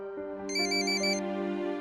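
Ringing phone for an incoming call: a bright electronic ringtone with a sustained tonal chime and a brief burst of high trilling notes, loud and close, with no voices.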